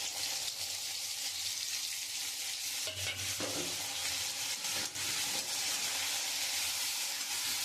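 Spices, chopped tomato, green chillies, dried chillies, chilli powder, cumin, turmeric and salt sizzle in hot oil in a pan, making a continuous close hiss broken by scraping stirs and a few clatters.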